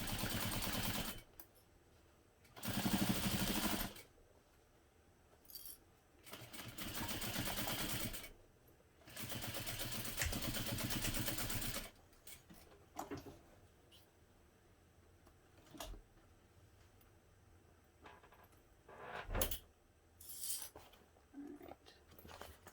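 Home sewing machine stitching a seam on a garment: bursts of close, whirring mechanical running separated by pauses, with shorter, quieter runs toward the end.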